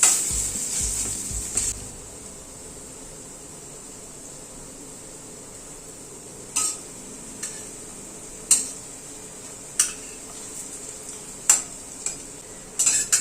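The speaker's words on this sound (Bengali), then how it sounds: "বড়াগুলোকে উল্টে দিচ্ছি" Lentil fritters (bora) fry in oil with a soft, steady sizzle as they are turned over, one by one. Sharp spatula clicks against the pan recur at irregular intervals.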